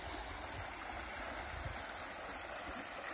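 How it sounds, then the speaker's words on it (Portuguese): A clear freshwater stream runs downhill toward a reservoir, giving a steady, continuous broadband rush and gurgle that holds an even level throughout with no voices. "Aí água cristalina descendo aí"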